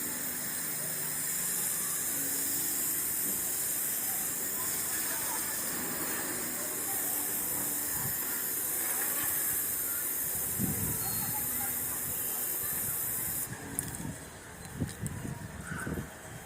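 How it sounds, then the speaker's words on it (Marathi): A hand pump sprayer pushes out insecticide onto plants in a steady, high-pitched hiss that runs almost nonstop. Near the end, a few low knocks and scrapes are heard. "याला सारखं असं पंप मारून स्प्रे करून घ्यायचं"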